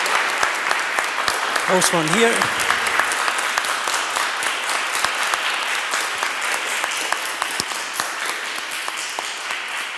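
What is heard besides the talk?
audience applause for the panelists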